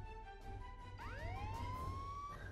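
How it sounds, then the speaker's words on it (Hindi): Police siren sound played from an old phone in a 3D animated Hindi story: a thin electronic wail rises sharply and sweeps upward over a steady background drone, fairly faint. "अपने एक पुराने फोन से पुलिस के"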